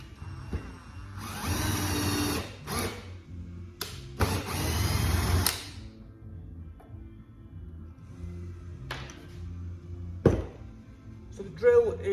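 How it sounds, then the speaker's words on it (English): A Cel Power 8 Pro electric drill, with hammer mode switched off, whirs in two loud bursts, followed by quieter clicks and handling noise, with faint talk in the background. "So the drill is quite smooth."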